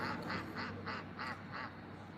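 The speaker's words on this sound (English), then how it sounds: "Angela, you hear the geese back here, honey?" A run of six evenly spaced, nasal honks comes from a short distance, faint and rhythmic over a quiet outdoor background.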